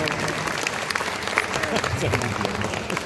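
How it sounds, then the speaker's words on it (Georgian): An audience at a preschool musical claps in a dense, steady burst of applause that continues evenly, with some speech mixed in. "ოვაციების გარეშე არ გავდივართ"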